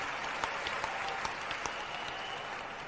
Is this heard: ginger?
no